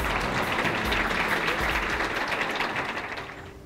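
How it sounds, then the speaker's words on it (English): At a Project Guild gathering, an audience gives a round of applause for a group of women, a steady wash of clapping that tapers off near the end. "if we would all give a round of applause to these fine ladies"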